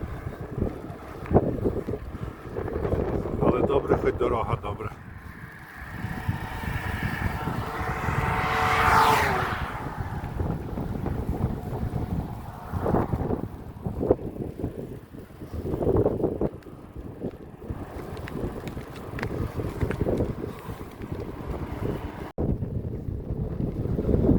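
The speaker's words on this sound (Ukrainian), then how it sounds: "На цей раз не дуже щастить зустрічний вітер." A strong headwind buffets the microphone in continuous rumbling gusts, with a passing whoosh midway and a low engine-like drone underneath.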